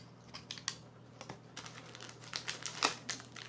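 The front pouch of a hiking and camping medical kit is torn open, producing a close burst of crinkling, tearing packaging noise that builds toward the end.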